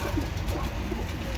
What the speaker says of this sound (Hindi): ये पकड़ा हुआ कबूतर है